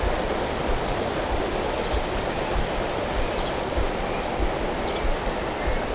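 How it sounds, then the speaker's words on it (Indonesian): A small river stream trickling over rocks beside a campsite near Bandung, a steady broadband rush of flowing water with no breaks, close and fairly loud. "Suara gemericik air yang terus mengalun membuat suasana di sekitar tenda terasa damai."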